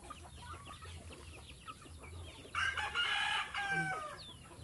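Bantam chicken crowing in one loud burst with clucking around it, heard against a low background hum and steady outdoor noise.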